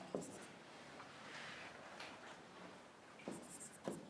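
Marker or chalk writing on a board for Hindi notes in a classroom lecture, with short scratchy strokes near the start and again toward the end and a quieter stretch between, no talking.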